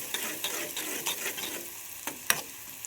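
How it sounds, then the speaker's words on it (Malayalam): Sliced onions fry and sizzle in hot oil while a spoon scrapes and stirs them in steady, repeated strokes, with sharp clinks of utensil on the pan standing out near the end. "സവാള ചേർത്ത് കൊടുത്തിട്ടുണ്ട് നമുക്കിതൊന്ന് വഴന്ന് വരുന്നവരൊന്ന് ഇളക്കി കൊടുക്കാം"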